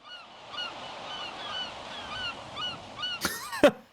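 Seagulls calling in a beach town setting, a steady stream of repeated squawking calls over a noisy crowd-like background, with a couple of louder, sharper cries near the end.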